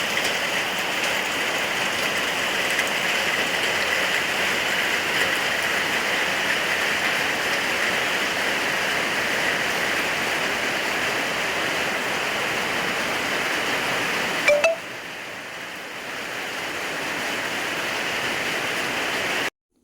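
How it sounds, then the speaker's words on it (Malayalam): Heavy rain pours in a dense, steady hiss for a long stretch, with a brief knock near the end and no voices. "മഴ മൂടി കെട്ടിന്ന് പിന്നെ നല്ല ഗംഭീര മഴയുണ്ട് പെയ്തുട്ടാ"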